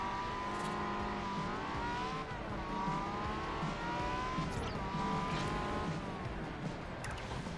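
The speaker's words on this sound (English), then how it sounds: "This car sounds amazing." A Ferrari 355 Challenge race car in the Forza Horizon video game, its engine a steady high-revving whine with rising and falling pitch sweeps as it shifts, loud and continuous.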